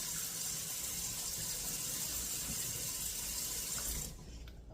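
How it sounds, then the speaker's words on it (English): Water drains out of a soaked rice pot or strainer hung up in a kitchen, a steady close rushing trickle that suddenly drops off near the end. "I'm gonna let the water drain out"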